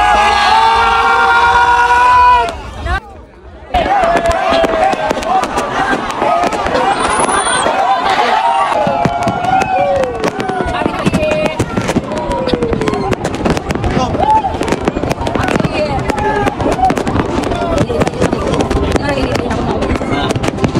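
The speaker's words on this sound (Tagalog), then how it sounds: "ang fireworks nila dito guys is 10 minutes lang" New Year fireworks burst over Pattaya, Thailand, in a loud, dense, continuous crackle and boom lasting many seconds, with a brief lull early on, while a crowd cheers and people talk and shout over the explosions.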